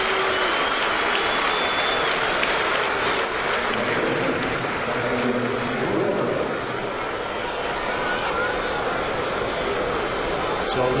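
Baseball stadium crowd at a Red Sox game applauding and cheering steadily, a dense wash of clapping and crowd noise that holds for the whole stretch without pause.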